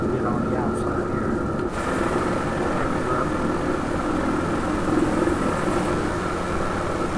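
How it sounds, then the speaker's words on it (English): A helicopter flies steadily in Microsoft Flight Simulator 2024, its continuous engine and rotor drone loud and unbroken throughout, with no distinct beats or pauses. "I find it a lot easier to fly this, any kind of helicopter now on Flight Simulator 2024"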